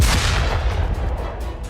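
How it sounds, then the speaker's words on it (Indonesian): A deep, rumbling blast with sustained low-end roar and crackling debris, loud and close, filling the whole moment without any voices. "sebuah ledakan tiba-tiba terdengar."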